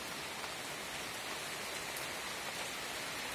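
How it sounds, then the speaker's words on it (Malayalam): Soft, even rain hiss, faint and continuous with no pauses or other sounds. "ഇവിടെ ഇച്ചിരി ഇച്ചിരി മഴ കൂടി കൂടി വരുന്നുണ്ടേ"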